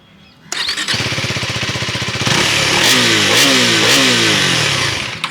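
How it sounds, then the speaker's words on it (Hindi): A KTM Duke 390 motorcycle starts with a short crank, then settles into a loud, close, steady idle before being revved repeatedly in rising and falling bursts of exhaust note, with no talking. "कुछ इस टाइप की आपको ड्यूक 390 की साउंड जो है वो मिलती है।"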